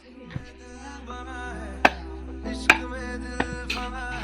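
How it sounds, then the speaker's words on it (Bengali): Woodcutter chopping firewood for cooking: sharp, irregular axe strikes, about five or six over a few seconds, ringing out close against a steady tonal hum in the background. "কাঠুরে কাঠ কাটছে রান্না করবো"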